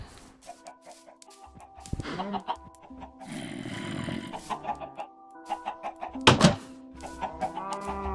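Minecraft chickens clucking in short, repeated bursts within the game, mixed with tonal in-game sounds and a few thuds, with no voices.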